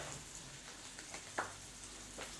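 Onions and peppers with a pinch of salt sizzle steadily in a pan, a soft continuous crackle with a few light taps of stirring and no talk.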